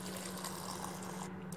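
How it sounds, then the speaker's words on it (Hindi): Water pouring steadily from close by into a biryani pot of rice and masala, a continuous rushing gush with a low steady hum beneath it and no talk. "अब इसमें हम पानी डाल देंगे"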